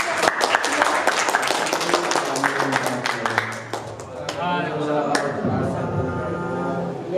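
Students in a classroom clap for a classmate after a presentation, a dense burst of hand clapping that thins out after a few seconds as talking takes over.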